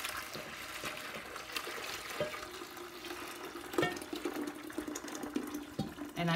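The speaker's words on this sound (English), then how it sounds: "what I'm gonna do is pour the steam" Hot water is poured from close by into a plastic container sitting in a toilet, a soft, quiet trickle and splash with small knocks and clinks, building slightly toward the end.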